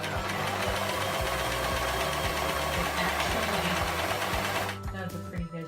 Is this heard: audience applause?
no